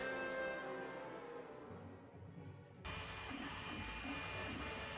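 A 3D printer prints parts for a 1:10 Sherman tank model, giving a steady, close whir of motors and fans with a shift in tone partway through, no voices.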